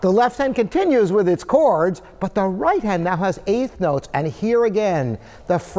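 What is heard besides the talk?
No distinct noise like a dog, phone or traffic.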